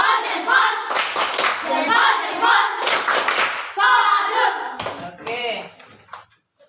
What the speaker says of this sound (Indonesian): Mantap, tepuk jempol.